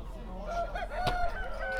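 Village roosters and chickens at a Sakarya poultry market, with a rooster's crow and clucking rising over a busy outdoor background, brief and moderately close.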